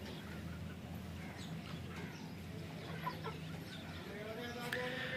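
An aseel rooster in a crate clucks and murmurs softly amid faint background noise and distant voices, with a few scattered bird calls.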